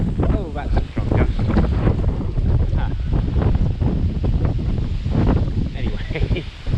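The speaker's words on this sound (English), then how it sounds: "Oh, that's a strong gust." Strong gusts of hurricane wind from Hurricane Ian buffet the microphone outdoors at a resort, a loud continuous roar with surging bursts, and a voice is briefly heard.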